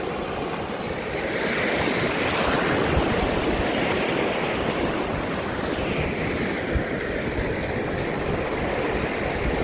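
Swollen high water washing and churning steadily along a flooded crossing, a constant broadband roar of waves with wind buffeting the microphone, no voices.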